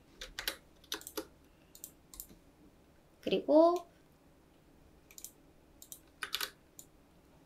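Computer keyboard keys pressed during Photoshop-style graphics editing, a few scattered light clicks spread across the span, with a short spoken word in the middle.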